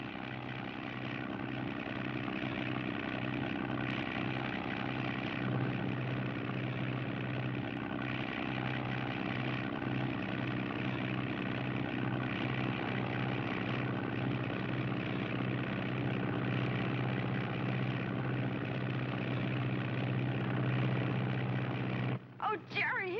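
A propeller airplane drones steadily in flight for a long stretch, an even, loud engine hum with a low rhythmic throb that cuts off abruptly near the end.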